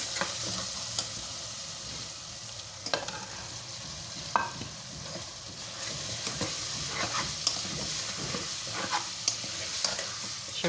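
Potatoes and capsicum being stirred in a pan, with a steady low sizzle of frying under repeated scraping and clacking strokes of a spoon against the pan, close and moderately loud, no talking.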